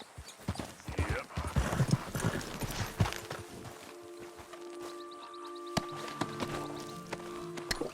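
Hooves of a horse in Red Dead Redemption 2 clip-clop in a steady run, loud and close at first, then ease under sustained musical tones with a few sharp knocks.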